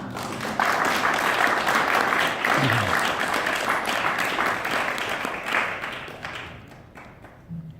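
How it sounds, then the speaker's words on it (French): A crowd at a Choq FM radio launch party in Toronto applauds loudly and steadily for several seconds, the clapping gradually thinning out toward the end. "Je pense qu'on peut nous applaudir collectivement"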